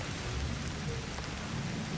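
Steady rain falls in the video game Ancestors: The Humankind Odyssey, a dense continuous hiss with a soft low rumble beneath, no speech.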